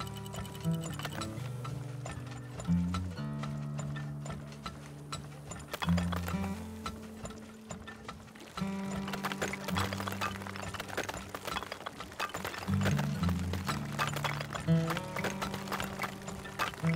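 Horses clip-clopping in the mining video game Turmoil, steady rhythmic hoof taps over a busy layer of game music and ticking effects throughout.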